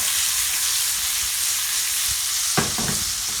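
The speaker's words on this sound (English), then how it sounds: "Just give it a nice toss around till it becomes golden brown." Potato pieces sizzle loudly and steadily in a hot pan of oil as they are tossed until golden brown, a dense continuous frying hiss with a few clattering stirs near the end, and no talking.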